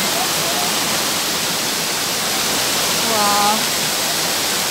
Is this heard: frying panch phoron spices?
no